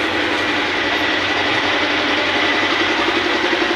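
A modified motorcycle engine runs at a steady idle indoors, a loud, even mechanical drone with a low rhythmic pulse and no talking over it.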